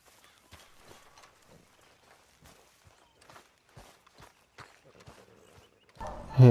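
Horse hooves clop over the ground in the Western video game Red Dead Redemption 2, light and fairly distant in an uneven rhythm, before a loud burst of other sound at the end.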